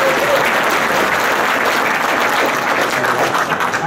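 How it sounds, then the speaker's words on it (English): Loud audience applause greets offshore radio veterans at a reminiscence event, many hands clapping continuously and evenly throughout with a faint hint of voices underneath. "Thank you very much for the applause."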